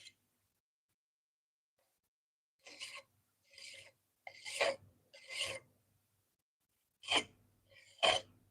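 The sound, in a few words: manually rubbing burr off knife edge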